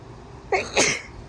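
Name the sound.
sneeze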